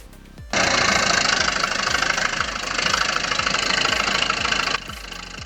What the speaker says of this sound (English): one of the largest hydraulic mining excavators ever built, weighing around 752 to 773 tons